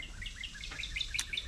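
Birds chirp outdoors around a homestead farm, giving a lively run of quick high tweets at a moderate distance over a soft background murmur, with no voices.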